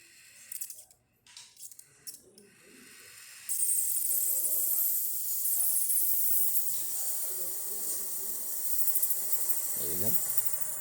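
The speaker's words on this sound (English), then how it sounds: "we're going to put the steam wand into the tray and we're going to run steam" A loud, steady hiss of steam bursts from a Breville Barista Express steam wand and runs continuously, following a few brief clicks and soft knocks.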